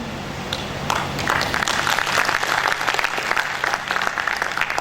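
Loud sustained applause from an audience at a university career development program, the clapping building after a quiet start into a dense, energetic wash of many hands.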